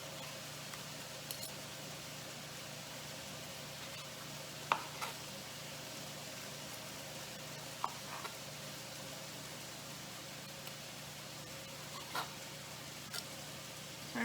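Broccoli and other vegetables sizzling in a stir fry pan, a soft steady fry punctuated by occasional clicks and light clinks of stirring.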